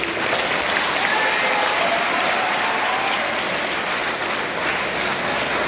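An audience at an educational seminar claps in a dense, continuous burst of applause that stays loud and even before tapering slightly near the end.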